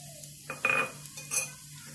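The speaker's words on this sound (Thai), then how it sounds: "ผัดสามสหายก่อน สามสหายก็คือกระเทียมรากผักชีแล้วก็พริกไทยนะคะ" Garlic, coriander root and pepper are stir-fried in a pan. A utensil clinks and scrapes against the metal in a few short, quiet knocks, with little sizzle.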